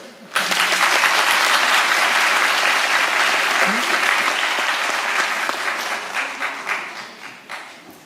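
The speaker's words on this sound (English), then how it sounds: "And clapping is now in order." Applause from delegates and audience at the close of a student model UN assembly, loud dense clapping that rises abruptly and thins into scattered claps toward the end.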